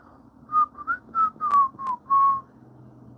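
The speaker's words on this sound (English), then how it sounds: "I did not mean to just whistle so loud." Loud whistling during a live reselling Q&A stream, a run of six short, bright whistled notes close to the microphone, rising and falling, then fading into quiet room tone.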